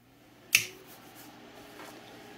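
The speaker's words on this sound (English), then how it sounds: "hopefully you can hear that click, give us a little bit of a audio and a visual indicator" A small relay wired across the output of a 20A low cut-off battery protection board gives one sharp, close click in an otherwise quiet setting, followed only by faint background hum.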